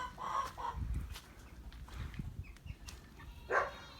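Chickens at a village house in Tırazlı, İzmir cluck in short bursts, with a sharper call near the end, over faint background noise.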